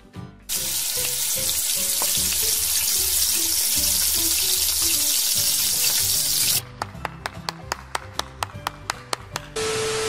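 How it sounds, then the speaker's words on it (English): Eggs frying in a pan give a steady, loud sizzle and running-water hiss that fills the first six seconds, then break into a series of sharp, evenly spaced cracks or pops before a final bright tone. "Tips to help you save electricity when frying eggs"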